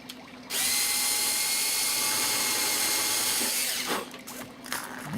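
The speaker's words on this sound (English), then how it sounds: "Now we take a little drill and have to drill holes." A power drill boring holes in a Phoenix Models Sukhoi Su-31 model airplane whirs steadily for about three seconds at close range, then winds down and restarts briefly, with light handling noise between.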